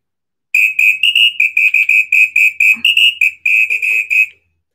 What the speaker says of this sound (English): Let's do Samba Whistle. I like this one.